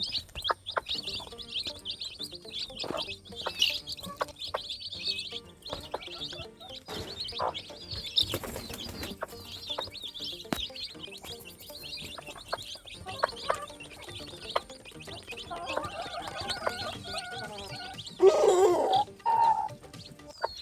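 Soft, repeated chirps and clucks of a mother hen and her chicks, with high peeping calls scattered across a quiet outdoor background and a louder cluck near the end.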